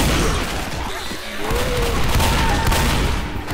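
Rapid pistol shots ring out amid a chaotic zombie fight in the co-op shooter Left 4 Dead, loud and continuous over dense background battle noise.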